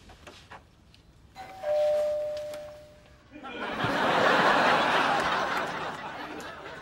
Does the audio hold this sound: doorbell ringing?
yes